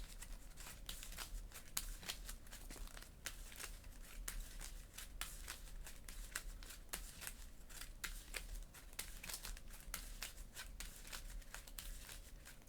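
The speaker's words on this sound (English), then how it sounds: "We're going to do this and shuffle up and draw 6 cards." A deck of Marvel Champions game cards being shuffled, giving a steady run of close, crisp riffling clicks and card slaps that continue evenly for about twelve seconds with no talk.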